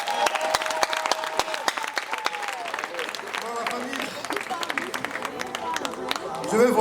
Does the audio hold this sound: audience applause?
yes